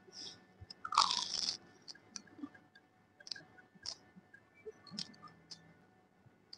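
Crisp bites and crunching into KFC fried chicken from a bucket, a loud crackling burst near the start followed by scattered softer chewing crunches and clicks, close and alone without talk.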